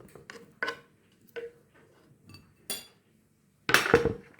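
Cut banana pieces are tipped from a container onto a plate, making a few soft clinks and taps of crockery, then a louder clatter and slide at the end, close by in a quiet kitchen.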